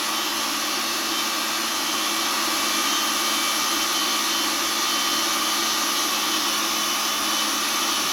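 A Ridgid 300 pipe threading machine running while oil is streamed onto the pipe, a loud continuous whirring motor hum that holds steady throughout with no talking.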